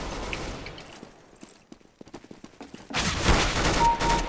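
Gunfire in a CS:GO Arms Race match: scattered single shots and footstep-like taps, then a loud sustained burst of rapid automatic fire, with no talking over it.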